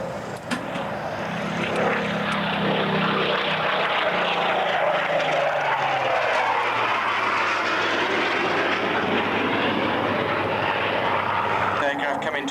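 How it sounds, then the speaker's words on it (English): Aircraft make another crossing pass at the 1992 Boscombe Down international airshow, where a Spitfire and an F3 were flying together, a loud sustained engine roar that swells and shifts while a commentator talks over it. "The aircraft coming towards us for another cross."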